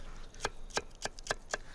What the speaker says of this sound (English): So again, cut it in little strip.